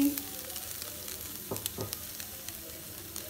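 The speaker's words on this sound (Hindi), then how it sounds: "सबसे पहले हम चिकन डालेंगे गाजर डालेंगे" Chicken and carrots sizzling in a hot pan, a close crackling fry with a few sharp pops and stirring clicks, no talk.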